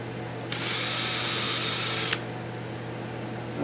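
A power drill fitted with a 5/16 inch bit whirs steadily for under two seconds while boring through a vinyl knife sheath, then stops, close and moderately loud.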